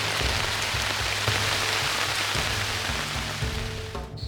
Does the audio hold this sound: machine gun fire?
no